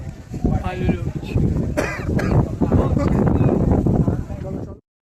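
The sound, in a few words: wind blowing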